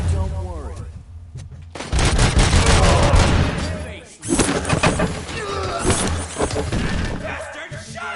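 Dense, loud gunfire rattles through a firefight in the video game Robocop: Rogue City, continuous volleys with crashes and thuds, a brief lull in the middle, and voices speaking over the shooting.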